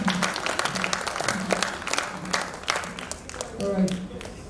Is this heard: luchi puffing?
no